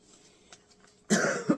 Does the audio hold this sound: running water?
no